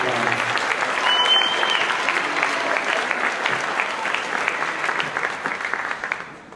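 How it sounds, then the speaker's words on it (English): An audience claps at a school spring band concert for the District 4 honors band members, a dense, sustained round of applause that holds steady before tapering off at the end. "All right, let's give them a big round of applause."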